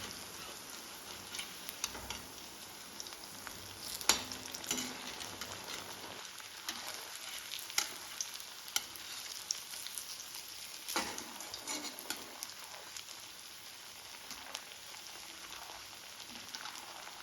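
Pazham pori, banana fritters battered in wheat flour, sizzle steadily in hot oil, a continuous soft crackle with occasional clicks and splashes as the pieces are turned, fairly quiet and without talking.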